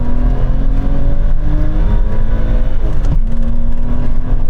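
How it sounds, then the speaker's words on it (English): BMW M5 cars accelerating hard in second gear from about 30 mph in a rolling drag race, a loud, steady engine roar with rising pitch heard from inside, a gear change near the end, no talk. "Now we're going to have a rolling race from around 30 miles an hour and we're going to do it in second gear."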